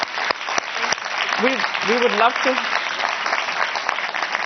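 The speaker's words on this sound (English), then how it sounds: "Please give Claire a big round of applause." Audience applause fills the room at a leadership panel event, a steady broadband clatter of many hands clapping throughout, with a brief voice speaking over it partway through.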